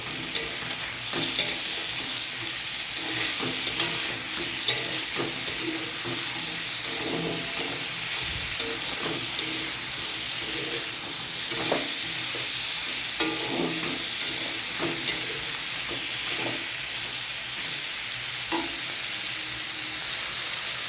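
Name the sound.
stirring spice powder into frying vegetable curry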